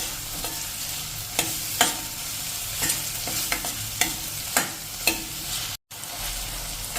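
Brinjal masala with green onions is stirred in a pan, giving a close, steady sizzle with a spatula scrape about every half second and a brief gap near the end.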